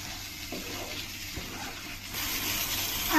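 Water is poured into a Bengali rui fish curry with potatoes cooking in a pan, a gushing pour that grows louder toward the end over light kitchen clatter.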